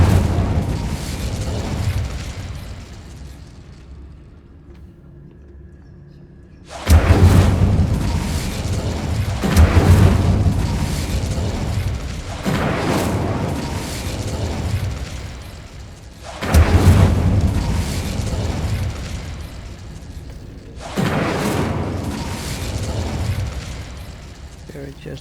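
Incendio fire spells cast in a wizarding video game, several loud whooshing bursts of flame that swell and fade, separated by quieter gaps, with someone talking over them.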